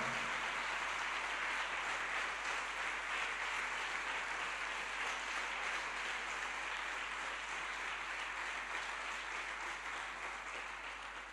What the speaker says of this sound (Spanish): Dense un aplauso entre ustedes por ser pastores de las ovejas del rebaño de Jesucristo